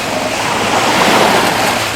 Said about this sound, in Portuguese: nós estamos aqui à beira do mar da Galileia